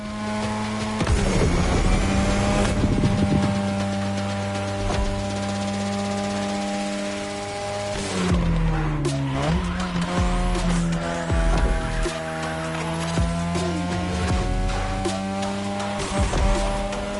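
A 2002 third-generation Mazda RX-7 with a rotary engine races in The Crew Motorfest, its buzzing engine note rising and falling through gear changes, punctuated by loud tire squeals. Steady and close throughout, with no talking.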